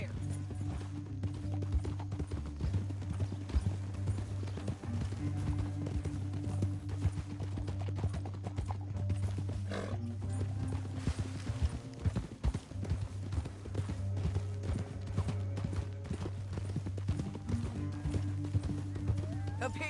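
Hooves clip-clop rapidly and rhythmically as horses gallop through a canyon in the video game Red Dead Redemption 2, over a low steady engine-like rumble, the hoofbeats persistent throughout.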